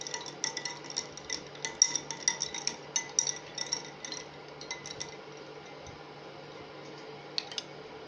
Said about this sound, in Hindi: और अभी मैं इस एक के अंदर डालूंगी बेजल सीड्स और इसे थोड़ा सा मिक्स कर लूंगी।